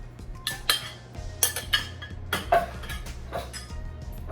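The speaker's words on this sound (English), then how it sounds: "Now I'm going to add the tomatoes in this bowl." Tomatoes tumble into a salad bowl with a run of clinks and clatters against the dish, close and fairly loud, spread over several seconds.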